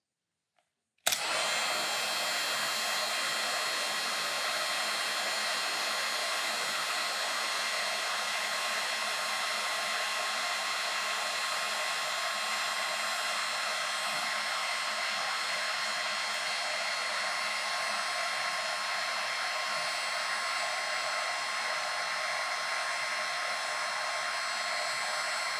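A heat gun blows hot air onto a salvaged chip, a loud, steady rushing roar that starts abruptly after a second of silence and holds unbroken for the rest of the clip.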